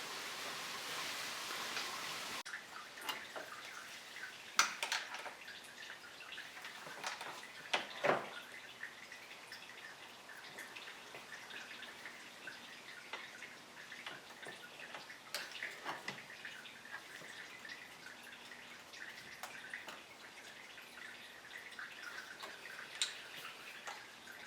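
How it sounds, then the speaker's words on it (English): Coolant trickles and drips from the bottom radiator hose of a 1980 Mercedes-Benz 450SL, a soft steady patter with scattered sharper drops and a few clinks, faint and close, with no voices. "it's slowly peeing out from the bottom hose through the radiator right now"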